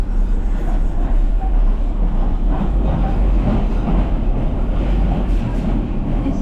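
A DLR light railway train in London rumbles along steadily at close range, its dense low-frequency roar of wheels and car body filling the whole stretch without letup.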